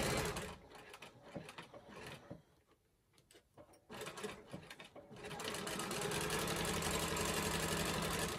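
Sewing machine double stitching a cathedral window quilt, rapid close stitching bursts that pause briefly midway, then run continuously to the end.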